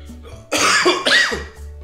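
A single person coughing hard, two harsh bursts close by, with quiet near-silence before and after.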